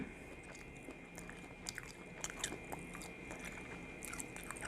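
Someone chews a grilled lemongrass chicken wing up close, with crunchy bites and wet mastication in irregular bursts over a steady low background hum.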